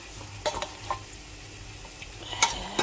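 Chicken tinola with lemongrass is stirred in a pot, with soft scraping strokes and a few light clinks of the spoon over a quiet simmer. No talking.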